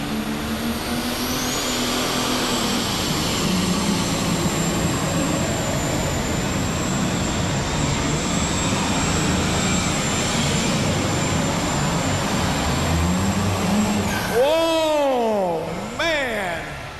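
A powerful International light super stock pulling tractor engine roars continuously at high revs during a tractor pull, loud and sustained, with a rising whine, before the pitch swoops down and back up near the end.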